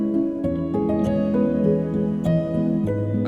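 A lo-fi piano patch in Cakewalk, made from a Splice instrument run through four TDR Nova equalizers and Valhalla Supermassive reverb, plays soft sustained chords with a few struck notes that bloom into a wide, lush reverb tail.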